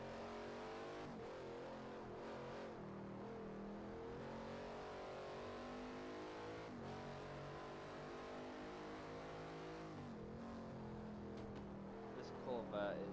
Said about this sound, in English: This Corvette is like the loudest GT car here